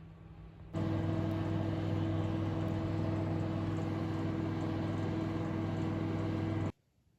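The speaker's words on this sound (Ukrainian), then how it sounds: "4 хвилини у мікрохвильовці" A microwave oven running to sterilize glass jars with a little water in each, a steady loud hum starting abruptly after a moment and cutting off cleanly near the end, with no talk over it.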